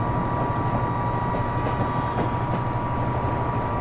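In a train simulator game, the Teesta Express runs on a steady, loud engine drone with a sustained hum and a few faint clicks on top.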